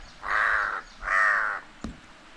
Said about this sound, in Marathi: कावळा किती जोराने मारतोय ना चोच,